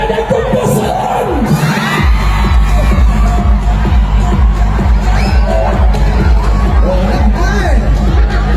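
A large rally crowd in Davao makes sustained loud noise, cheering and shouting with a dense babble of voices and whoops, steady and close throughout after an opening moment of amplified sound.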